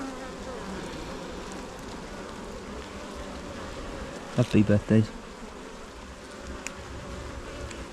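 Honey bees buzz steadily during a beehive inspection, a dense continuous drone close to the hive, with a brief burst of louder nearby sound in the middle and a few spoken words over it.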